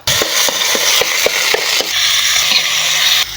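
Spicy frog stir-fried with herbs such as ginger, kaffir lime leaves, pepper and pea eggplant in a hot pan: loud continuous sizzling with rhythmic clacks of a utensil striking the pan, close and without talk.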